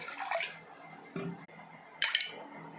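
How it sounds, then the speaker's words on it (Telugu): Cool water splashes and trickles into kneaded wheat flour dough in a bowl, in two or three short separate bursts with brief quiet gaps and a slight clink of the vessel. "ఇందులో కొద్దిగా కూలింగ్ వాటర్ వేయండి"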